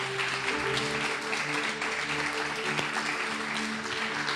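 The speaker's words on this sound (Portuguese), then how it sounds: "Aplaude ao Senhor para a voz voltar, em nome de Jesus." Congregation applause in a church service, continuous clapping under a sustained musical tone, moderately loud and dense without any clear individual voice.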